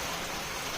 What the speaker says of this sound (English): And pardon the rain, it's been raining all day.